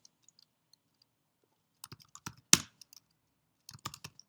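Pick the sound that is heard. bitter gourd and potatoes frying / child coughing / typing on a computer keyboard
typing on a computer keyboard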